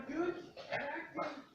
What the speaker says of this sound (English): that's my dog making weird noises.